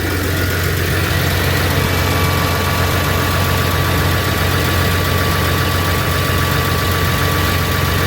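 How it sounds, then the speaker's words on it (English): A Massey Ferguson 6499 tractor engine idles steadily nearby, a constant low chugging drone that never changes pace. "tractor running"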